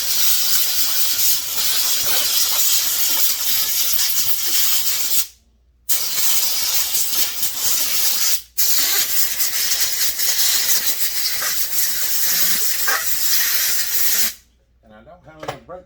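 Brake cleaner sprays from an aerosol can onto a filthy Husqvarna 372XP XT chainsaw in long, loud, steady hissing bursts, broken by two brief pauses.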